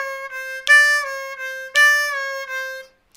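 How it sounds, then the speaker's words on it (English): A C blues harmonica plays a tongued triplet lick on the four hole, a bent-down draw note followed by a blow, with crisp tongued attacks and sustained reedy tones, clear and close with no talking. "you're taking four draw, bending it down, and then you're blowing"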